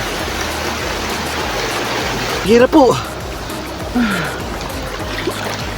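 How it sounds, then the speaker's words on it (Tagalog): Steady rushing of a fast-flowing river fills the scene, loud and continuous, with a person briefly speaking over it on the riverbank. "Malakas po ang agos ng tubig."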